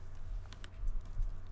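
Scattered keystrokes on a computer keyboard sound as a handful of light, irregular clicks over a low steady hum, with no voices.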